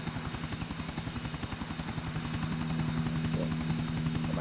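A helicopter flying in the video game GTA IV, with a steady, loud rotor chop and engine whine that holds constant throughout, with no speech.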